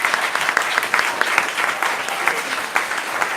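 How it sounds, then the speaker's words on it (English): A livestreamed panel audience claps for its panelists, a brisk, dense burst of applause holding steady throughout without any speech. "Let's have a big round of applause."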